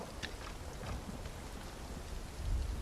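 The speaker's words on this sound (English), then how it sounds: "It's raining." Steady rain falls in the Final Fantasy VII Rebirth video game, a soft continuous hiss of drops with faint low rumbles, quiet and alone without any talk.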